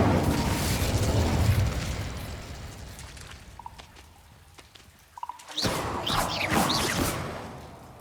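In the Hogwarts Legacy video game, an Incendio fire spell erupts as a loud whooshing blast that fades out, then a second fiery burst flares up and rolls on.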